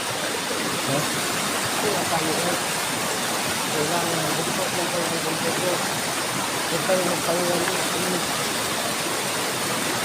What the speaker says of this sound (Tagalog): ang lakas ng tubig guys, sobrang lakas ng tubig guys